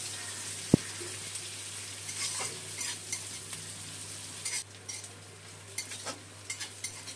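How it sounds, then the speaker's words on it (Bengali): Soft, continuous sizzle of chopped onion frying in oil, with light stirring scrapes and a single sharp tap near the start. "তাহলে পেঁয়াজ ভাজাটা তাড়াতাড়ি হবে"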